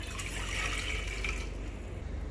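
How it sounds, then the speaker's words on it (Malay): Water, 500 ml, pouring into a cooking pot, a steady splashing stream that fades toward the end. "500 masuk dalam periuk lah."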